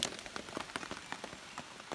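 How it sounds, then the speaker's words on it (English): Rain falling on the Appalachian Trail, steady close patter of drops striking a nearby surface, with irregular louder taps scattered throughout. "it started raining again"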